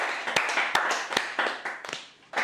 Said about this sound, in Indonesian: beri tepuk tangan yang meriah untuk Ibu Trimulatsih